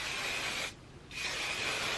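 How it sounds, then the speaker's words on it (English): Hairspray sprays onto freshly blow-dried, brushed hair in two steady close hissing bursts separated by a brief pause. "add a little spray"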